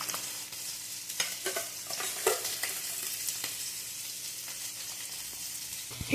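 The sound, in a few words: rice porridge boiling in pot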